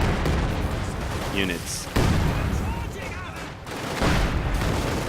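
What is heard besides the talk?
artillery barrage and gunfire in a video game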